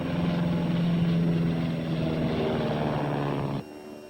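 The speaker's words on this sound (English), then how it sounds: "up in his crop dusting plane right now searching the valley" A crop-dusting plane flies over a valley, its propeller engine giving a steady, loud drone that holds for several seconds and then drops off abruptly near the end.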